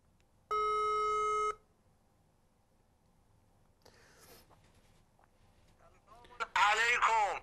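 A telephone call rings with a single sustained electronic tone lasting about a second, followed by quiet line noise and then a voice answering the call.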